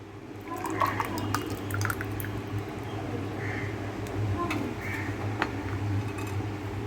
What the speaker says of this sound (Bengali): এর মধ্যেই আমি পুরো এই ঘোলটাকে ঢেলে দেবো